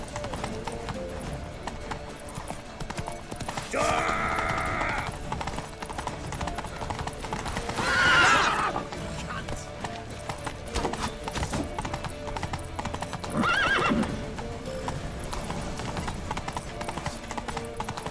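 Horses gallop with a steady clip-clop of hooves in The Witcher 3 video game, with whinnies breaking through at intervals over a dense, continuous game soundscape.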